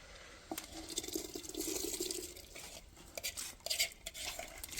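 Soaked chana dal goes into hot water on a stove (chulha), with close, quiet splashing, wet stirring and light clinks of metal utensils against the pot.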